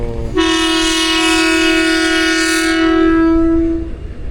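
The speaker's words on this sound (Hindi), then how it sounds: "लें जी ट्रेन मूव हो रही है।" A train horn sounds one long, loud, sustained blast as the Khushhal Khan Khattak Express departs Attock City Junction, steady for several seconds before cutting off, with no talk over it.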